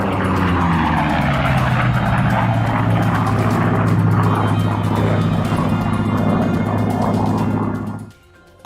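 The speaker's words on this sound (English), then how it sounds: "The Japanese called it Whistling Death because of a distinctive sound the Corsair made at high speeds." A Corsair propeller fighter plane roars loud and steady overhead, its engine droning for several seconds before cutting off abruptly.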